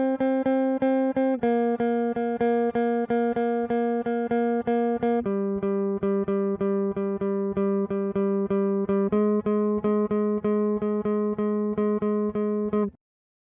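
A guitar repeats a simple single-note loop pattern moving through a few pitches, evenly plucked short notes in a steady rhythm, clear and alone before stopping abruptly.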